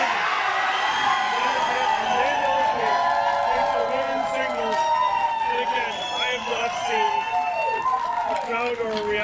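A crowd at a women's cornhole final in the 2023 ACL Canada Open erupts in loud, sustained cheering, screaming and whooping that fills the space, with voices shouting throughout.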